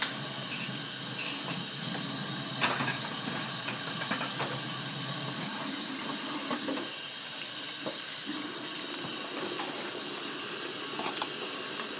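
Hot water running from a kitchen tap into a sink, a steady close hiss and splash that continues throughout with slight changes in flow, no talking.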